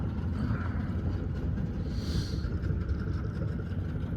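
A MacGregor 26X sailboat under motor, mast up, a steady low outboard drone with wind and water wash, constant and fairly close, no speech.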